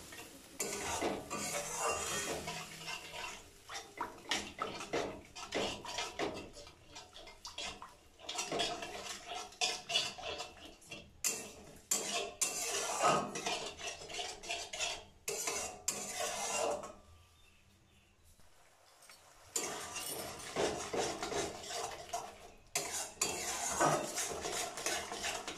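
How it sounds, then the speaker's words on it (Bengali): Whisked sour yogurt being stirred into cooked spices in a pan for niramish doi begun: constant clattering and scraping of a metal spoon against the pan, close and busy, easing briefly to a lull partway through. "মশলার সাথে টক দইটা খুব ভালোভাবে মিলিয়ে মিশিয়ে নেব।"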